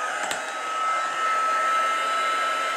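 A heat tool blows steadily on embossing powder over a stamped image during card crafting, a continuous loud hair-dryer-like whoosh and hum holding for a few seconds with no voices.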